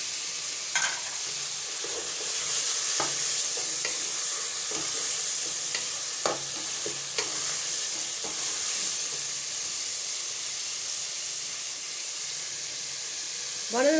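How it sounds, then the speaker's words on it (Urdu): Tomatoes with ginger garlic paste fry in a pan with a steady hiss, heard close and continuous. A spoon stirs through them now and then and makes occasional soft scrapes and taps. "ٹماٹر کو ہم اچھی طرح سے فرائی کر لیں گے"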